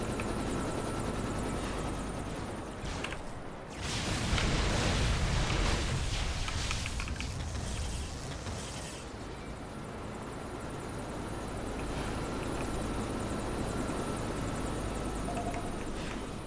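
A loud, continuous engine roar from an Osprey aircraft in the Champions Online video game, a broad rumbling drone with whining tones that surges briefly near the start and then holds steady throughout.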